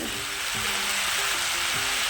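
Close, continuous sizzle of ash gourd frying in a pan, a dense crackling hiss with faint occasional stirring.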